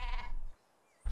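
A sheep bleats in a video game, a single loud nasal bleat up close, then a short quiet gap before another bleat begins.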